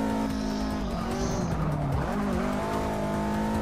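A race car in Forza Motorsport 6 roars close by with a steady engine whine that dips and climbs with the gears, with a brief tire squeal partway through.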